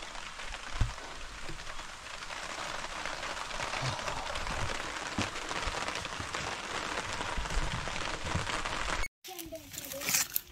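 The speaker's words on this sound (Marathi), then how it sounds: "पाऊस आला नशीब पोचल्यानंतर." Steady rain falls on a small forest village of only a few houses, a broad continuous hiss with scattered drops and splashes, ending with a brief cut and a different, quieter stretch.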